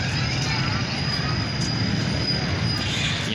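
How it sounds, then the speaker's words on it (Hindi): A children's ride train rolling through a park at night in Karachi, giving a loud, steady rumbling roar with a faint high squeal running throughout. "यहाँ पर देखिए बच्चों की ट्रेन वगैरह"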